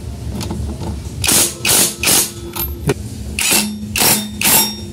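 An impact wrench works on the CVT cover of a Honda Click 125/150i scooter, firing a series of short hammering bursts close by, roughly eight quick rattling pulses in uneven rhythm.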